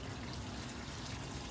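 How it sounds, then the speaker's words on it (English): Water pours steadily out of a pot of rice being drained in a home kitchen, a continuous quiet splashing trickle with no voices. "I'm gonna drain some of this water because you don't really need the water that much"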